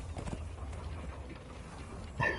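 Horse hooves in the game Conan Exiles, a soft run of low clip-clop steps under a steady game ambience, moderately close, with a brighter burst of sound near the end.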